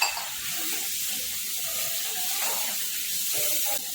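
Ragda mixture with coriander-cumin powder, red chilli, salt, turmeric and water sautéing in a cooking pan, giving a steady close sizzle with soft stirring scrapes throughout and no talking.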